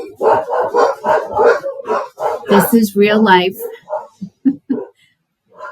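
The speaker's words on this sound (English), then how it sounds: "I apologize for the dogs barking" Dogs bark in the background, partly buried under a person talking steadily nearby.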